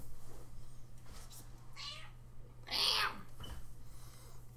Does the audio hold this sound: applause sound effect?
no